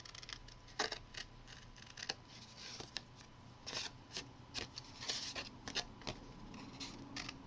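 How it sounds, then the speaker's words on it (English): Scissors snip steadily around the top and bottom edges of a paper gift tag, crisp repeated cuts in an irregular rhythm, close and fairly quiet with no talking. "And then I'll just trim around the top edge and the bottom edge."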